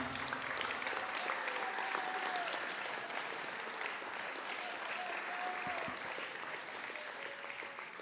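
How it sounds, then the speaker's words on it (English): A school athletic assembly crowd applauds the riders, their parents and the coach: sustained, even clapping heard from a distance, faint and washy, with a few brief voices in the hall. "please give a round of applause for our riders, parents, and Brian."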